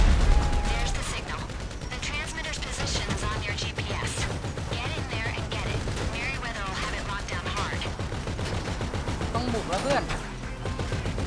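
Rapid gunfire crackles in GTA V Online, bursts of shots and mechanical clatter running steadily under someone talking.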